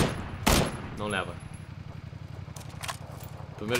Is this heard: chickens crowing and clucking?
no